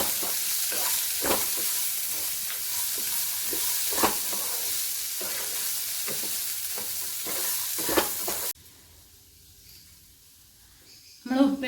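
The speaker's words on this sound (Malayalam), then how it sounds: "വേവിച്ചത് വറവിലേക്ക് ഇട്ടെടുത്തിട്ട് നന്നായി ഇളക്കി കൊടുക്കും" Cooked cowpeas being stirred into a fried shallot tempering for a Kerala upperi stir-fry: steady scraping and sizzling with spoon knocks for most of the clip, then an abrupt drop to quiet near the end.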